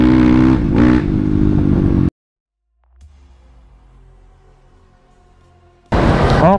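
Engine of a Kawasaki KLX supermoto bored up to 200cc, a loud revving burst, then silence, a low quieter idle, and another sharp loud rev at the end.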